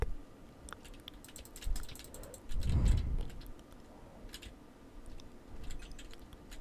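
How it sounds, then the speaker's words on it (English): Clicky keys on a computer keyboard during a quiet game session, scattered bursts of typing with short pauses, close and soft, with a low rumble from the game or room in between. "You can also hear my keyboard."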